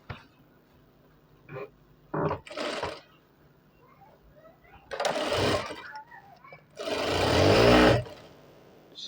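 Electric sewing machine stitching a cotton shirt (kameez) seam, heard as a few short, loud whirring bursts at the start and a sustained run near the end, separated by quieter handling noises.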